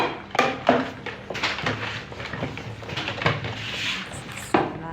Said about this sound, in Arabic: راني نغسل معاكم في الماعن تاعي كانوا في هذاك البانيو